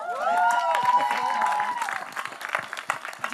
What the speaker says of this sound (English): can we have all the journalists out there clap for this journalist turned producer?